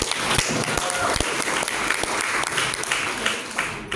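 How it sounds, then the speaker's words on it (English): An audience at a high school debate competition applauds after the first match, a loud, close burst of clapping with some sharp individual hand claps, with voices murmuring underneath, tapering off at the end. "Give applause to first match"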